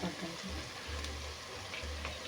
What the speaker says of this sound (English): as my next batch of chicken is browning